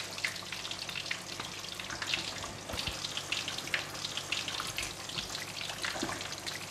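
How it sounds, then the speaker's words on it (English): Loud sizzling and bubbling crackle continuously as water hits a hot pan, a dense hiss of frying that stays steady throughout. "Add in the water."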